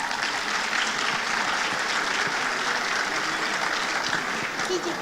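A crowd at a talk on Latin American film co-production applauds to welcome a speaker, a steady wash of clapping heard slightly distant, with faint voices mixed in.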